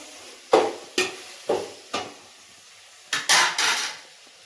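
Tomatoes are cooked in a pan with fried peanuts at a home stove. A utensil strikes and scrapes the pan in distinct, evenly spaced clanks with a faint sizzle between them, and a quicker cluster of strokes comes near the end.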